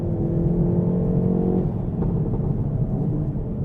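A Hyundai i30 N hot hatch accelerates, its engine note rising steadily under a loud, sustained roar with a brief shift midway, heard from inside with no talking.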